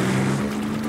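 A cartoon motorboat engine drones steadily with a low hum, accompanied by wind and water noise, continuous for under a second.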